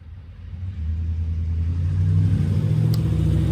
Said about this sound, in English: there's traffic on this road in front of my home here